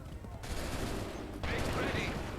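Musket volleys in Assassin's Creed III, broadband bursts of massed gunfire crashing in two main waves over constant battle din, loud and close with a voice faintly underneath.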